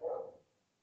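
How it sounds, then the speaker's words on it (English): A single short dog bark from outside, muffled and fairly faint, fading quickly. "The dog is barking outside."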